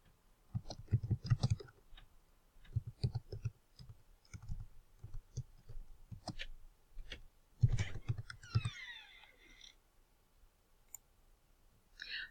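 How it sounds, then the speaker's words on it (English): Irregular bursts of clicky key presses from a computer keyboard, close and fairly quiet, with short pauses between runs of typing and no talking. "so we're going to type this piece in"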